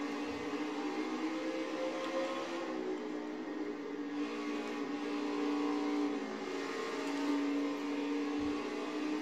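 A damaged NASCAR race car at Bristol in NASCAR Heat 4 drones continuously, its engine pitch wavering as it accelerates and holds speed, somewhat faint with no voices.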